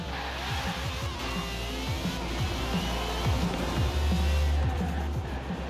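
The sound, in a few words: other cars racing past the finish line in Forza Horizon 4 video game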